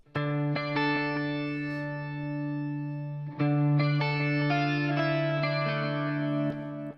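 Shimmering, doubled clean electric guitar chords ring out with a bright, chorused twelve-string-like sheen, sustained and fairly loud with no voices.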